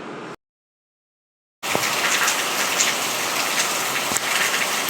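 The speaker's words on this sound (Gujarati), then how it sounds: "વરસાદ શરૂ થઈ ગયો છે મિત્રો, જોરદાર." Heavy rain pouring down, a dense steady hiss of drops hitting surfaces that comes in abruptly after a brief silent gap and keeps up loud and even, with no talking.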